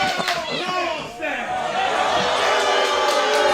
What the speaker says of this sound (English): When faced with the get the hell out chant, he defies the crowd